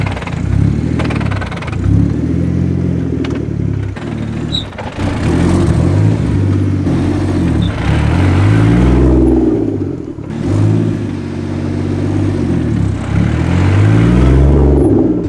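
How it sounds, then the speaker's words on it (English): A 700 hp single-turbo BMW 335i launches from a stop, its engine droning steadily and loudly while the clutch chatters with uneven low shudders throughout. "It does make a chatter noise unless you really drag the clutch"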